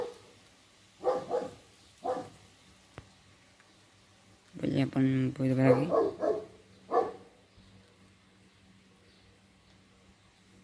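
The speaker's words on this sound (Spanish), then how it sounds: "Vaya, el perro del vecino." A neighbour's dog barks a few times at a distance, short sharp yaps, then a longer burst of barking, with someone speaking quietly nearby.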